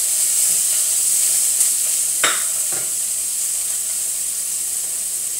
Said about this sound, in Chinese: 吴老师要把我们切细的洋葱放到里面去